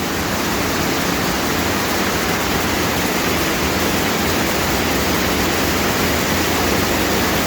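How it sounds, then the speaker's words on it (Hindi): A waterfall swollen by nonstop rain roars loudly and continuously, a dense unbroken rush of falling water with no voices. "बारिश रुकने में नहीं आ रही, झरना अपना रंग बदलता जा रहा है।"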